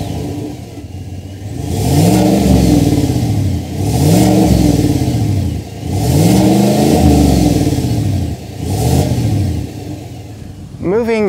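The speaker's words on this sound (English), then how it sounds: "let's actually move back to the back to see what it sounds like when you fire it up" A 2022 Chevrolet Silverado RST Z71 pickup engine revs up and drops back four times in a row, each loud rise and fall heard close by, with a brief sharp sweep at the very end.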